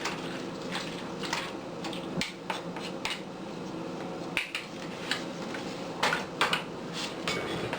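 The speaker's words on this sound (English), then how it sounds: "Mix it all together." Chickpeas and raisins being stirred together in a pan, giving a steady run of light scraping and clinking utensil taps against the metal, close and moderately loud with no speech.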